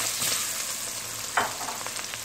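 Pork frying with spices in a pan as chopped red onion goes in, a steady bright sizzle with a brief louder crackle of stirring midway, close and without talk.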